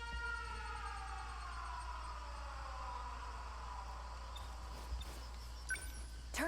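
Air raid alarm sirens in the video game 13 Sentinels: Aegis Rim, a long wailing tone that slowly falls in pitch over a steady low rumble, sustained and moderately loud, with a few faint clicks near the end.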